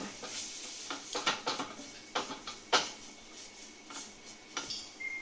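A spoon stirs two spoonfuls of maida flour into melted butter in a pan, giving quiet, irregular scraping clicks and light taps against the metal with no voices.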